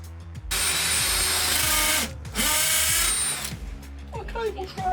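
A power drill bores a pilot hole in wood, whining loudly in two long close bursts with a short pause between them, then stops, leaving faint handling sounds.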